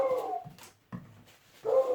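A dog indoors during home steak cooking lets out a whining howl, then a short yelp, and another rising howl, close and moderately loud with gaps between, no talk.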